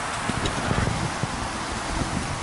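Wind buffets the microphone during a bike ride along the Galveston seawall, a loud continuous rushing roar with gusty rumble and no talking.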